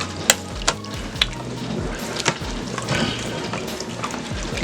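A spoon scrapes and stirs garlic powder into green beans with jowl bacon in a Power Pressure Cooker XL pot, giving sharp, periodic scrapes over a steady low sizzle and a wet hiss, with no talking.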